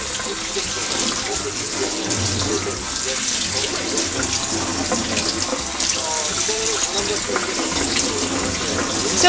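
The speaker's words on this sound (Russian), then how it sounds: "Ледяной водой опять промываем." Running cold tap water splashing steadily into a sink as cooked shrimp are rinsed, a loud continuous rush throughout.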